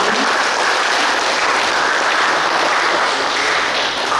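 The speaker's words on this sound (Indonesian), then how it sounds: "Ibu-ibu, saya mohon tepuk tangannya untuk 3 narasumber kita pada hari ini." An audience at a village and district community information outreach meeting in Indonesia claps for three guest speakers, producing loud, continuous applause that fills the room without any talking.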